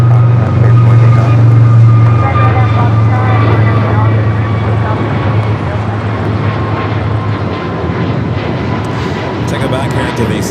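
An airliner takes off from runway 25 Right at LAX, a loud, steady jet roar that fills the whole stretch with a low droning hum beneath it and no letup.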